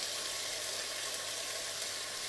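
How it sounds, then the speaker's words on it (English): Two kinds of whole spice seeds sizzle in hot oil in a home kitchen, a steady, close, even crackling hiss that carries on without pause and with no voices over it. "I love to hear the sound. Sizzle, sizzle."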